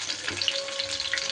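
Stuffed pointed gourds fry in oil in a covered pan over a medium gas flame, giving a steady, close hiss and crackle with no voices.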